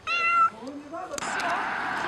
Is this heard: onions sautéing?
no